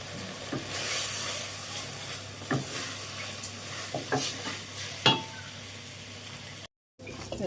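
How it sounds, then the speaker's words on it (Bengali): Rice for khichuri being fried in a pan, a steady soft sizzle with occasional scraping stirs and light clinks of a utensil against the pan, close by, with a brief dropout near the end. "চালটা ভাজা নিতে আসছি।"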